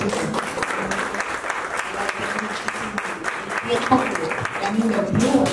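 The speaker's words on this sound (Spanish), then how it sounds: "primero un aplauso para todas" An audience at a panel discussion on women's rights in Guatemala applauds the panelists, a steady continuous patter of many hands, fairly close, with some voices mixed in.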